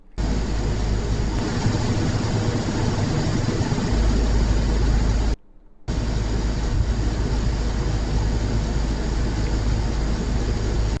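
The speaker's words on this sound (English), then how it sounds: "I hear the little hum of the engine" A steady low engine hum with road rumble, continuous and fairly close, briefly cutting out midway before resuming.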